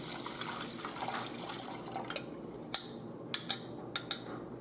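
Broth poured into coated rice in a pan for Italian arancini, a soft liquid splash and trickle followed by several sharp small clinks and taps, fairly quiet and close, no speech.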